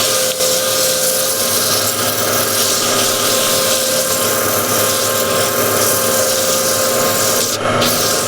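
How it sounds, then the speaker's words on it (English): Sanding a wooden cross-grain box on the lathe, a steady loud rubbing whir running evenly throughout, no voices heard over it. "I just want to sand this part here and leave a definition inside this"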